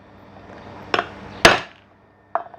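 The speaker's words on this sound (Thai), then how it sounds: "ตอกตะเข็บมันนะครับ" Sharp metallic hammer blows on the seam of a motor part from an 18-inch Hatari electric fan, three separate strikes spaced unevenly, close and loud, with a faint ring after each hit.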